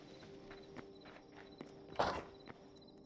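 A horse walking in a video game, with soft rhythmic hoof footsteps and one louder thud, faint and steady in the background with no talk.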